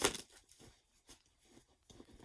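Soft papery riffling and snapping in quick bursts with brief pauses, a small stack of tarot cards being shuffled up close.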